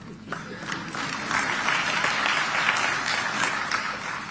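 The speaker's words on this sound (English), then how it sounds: "I believe, Josefa, you'll clap for me on that one" African leaders at a summit applaud a speech, a steady roomful of clapping that swells after a moment and holds evenly for several seconds at moderate loudness.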